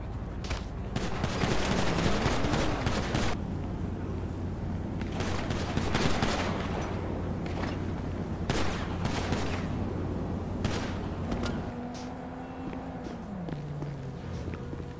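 Gunfire crackles through a GTA roleplay shootout, with repeated sharp shots and short bursts from a weapon, mixed with footsteps and a low engine-like drone, loud and close, with a tone sliding near the end.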